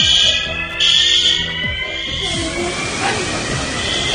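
Fire alarm sounding in a metro station during an evacuation of obsolete equipment, a steady electronic tone running throughout with crowd noise, footsteps and people talking over it.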